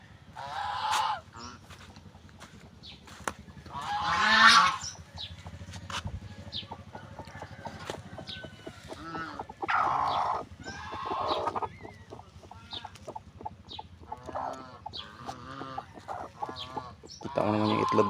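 A farm chicken calls in a few loud squawking bursts, mixed with other fowl-like cries, separated by quieter gaps and some background noise.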